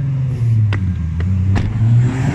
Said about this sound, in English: That was a car that was revving all so loud.